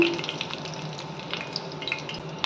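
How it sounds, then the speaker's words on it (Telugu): Cumin seeds and black peppercorns fry in melted ghee, giving a soft, steady crackle with light scraping, fairly quiet and with no voices. "నెయ్యి కరిగిపోయిందండి. జీలకర్ర, మిరియాలు వేసుకోవాలి."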